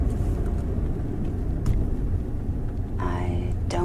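Car driving up to a park, a steady low engine and road rumble from inside the vehicle with a brief whooshing passing sound near the end.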